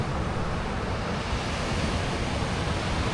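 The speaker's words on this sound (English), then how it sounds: "Some waves coming in." Ocean waves rolling in at Moonstone Beach around sunset, a steady broadband roar of surf with wind across the microphone, continuous and fairly close, with no talking.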